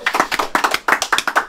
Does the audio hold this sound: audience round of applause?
yes